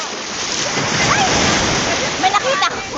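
Sea waves hit hard at Ambay Beach, a loud continuous rushing wash of surf with wind buffeting the microphone and a few faint voices in the background.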